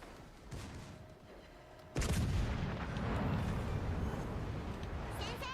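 Warship turret guns in World of Warships: Legends let out a heavy booming salvo that leaves a long rumbling wash of noise, with a person speaking faintly nearby.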